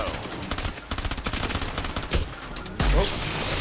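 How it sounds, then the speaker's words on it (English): Rapid machine gun fire in Fortnite, dense bursts of shots crackling loud and close with brief gaps, ending in a heavier blast. "that's machine gun for me"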